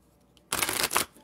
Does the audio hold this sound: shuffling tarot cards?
yes